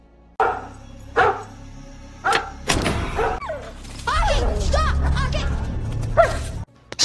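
A dog barks a few times close by with some thumps and rustling, and a voice talks over the later part.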